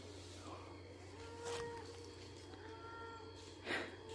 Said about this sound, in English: Here are the cows.